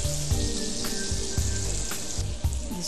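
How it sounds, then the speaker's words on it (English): Bread triangles fry in butter or vanaspati ghee with a steady, close sizzle, broken by occasional pops and light clatter from the pan. "we have to fry those bread triangles till they become brown"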